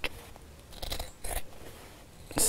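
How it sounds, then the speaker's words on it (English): Scissors trim the end of a zip on a fabric zipped pouch, giving a few soft close snips and crunchy cuts, with a louder sharp noise at the very end. "And now I can trim off the end of the zip,"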